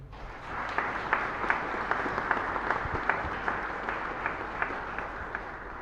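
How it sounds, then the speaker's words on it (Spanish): Steady applause from a congregation at a Catholic Mass in a chapel, many hands clapping together with a few sharper claps standing out, no talking over it. "pedimos un fuerte aplauso"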